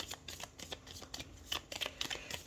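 Tarot cards shuffled in a brisk series of dry riffling flicks and soft slaps, close and steady over a quiet room, with no talking.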